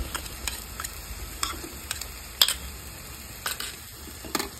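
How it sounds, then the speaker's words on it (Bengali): Garlic paste frying in a pan for a Bengali prawn malai curry, a low steady sizzle under sharp intermittent clicks and taps of stirring, close and fairly quiet with no voices. "রসুনটাকে ভালো করে ভেজে নেবো"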